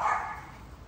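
A single dog gives one short bark up close, followed by a fading tail of faint background noise.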